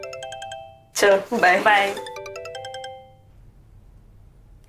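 A mobile phone ringtone for an incoming call repeats its bright melodic tones throughout, while someone briefly speaks over it in the middle before the ringing fades out.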